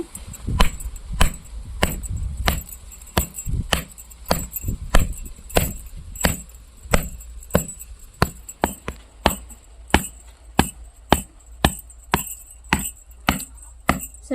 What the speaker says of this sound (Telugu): బెల్లం అయితే ఇప్పుడు దీన్ని పగలగొట్టుకుందాము